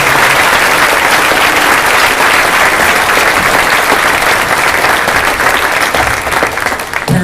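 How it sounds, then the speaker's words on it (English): Loud, sustained applause from a middle school band concert audience for 7th grade band students, a steady dense wash of clapping throughout that eases slightly at the very end. "can you give up another round of applause for these wonderful kids?"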